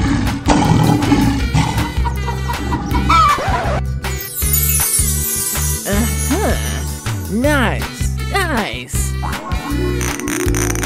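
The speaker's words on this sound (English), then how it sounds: "Lion." A cartoon lion in a children's animal transformation game roars loudly and in a drawn-out way over bouncy music, followed by other comic animal calls and squeaks.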